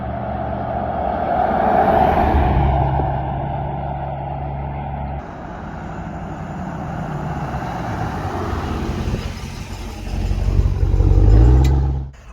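A 2021 Ram TRX pickup engine revs during a test drive, building to a loud roar, easing off into a steady cruising drone, then surging again near the end before cutting away.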